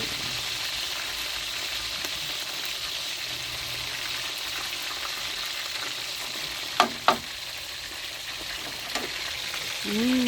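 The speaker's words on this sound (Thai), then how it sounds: "ต้องตั้งกระทะให้ร้อนก่อน ไก่จะจะได้ไม่ติดกระทะ" Steady, quiet sizzling of chicken frying in a hot pan, with a few sharp clinks of a utensil near the end.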